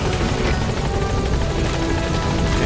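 Helicopter at a landing zone in the Metal Gear Solid V video game, a loud, close, continuous rotor thudding with a steady engine whine and no talk.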